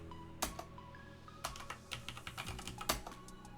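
A username and password are typed on a computer keyboard in a quiet room, with soft clicking keystrokes in irregular bursts and a few louder key taps.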